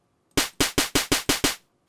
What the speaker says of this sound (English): it's really more of like a white noise kind of snare sound